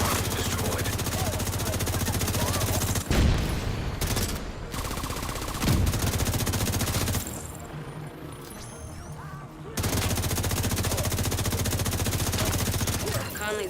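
Sustained automatic gunfire from The Division, loud and nearly continuous with short breaks and a quieter stretch midway before the shooting resumes, with a voice talking over it.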